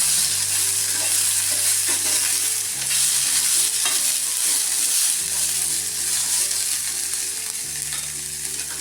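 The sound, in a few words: peas roasting in a pan until soft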